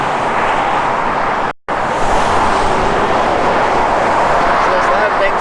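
A car wash dryer blows in a loud, steady, broad roar, nearby and constant, with one brief dropout; traffic from a busy highway is close by.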